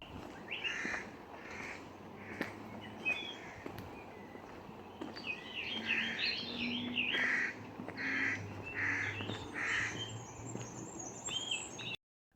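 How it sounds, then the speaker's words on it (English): A hooded crow flies past on a nature walk, giving a series of harsh caws that grow louder mid-way, while other small birds chirp and footsteps crunch on gravel beneath. "one of my favourite birds, the hooded crow, starts flying past and cawing out"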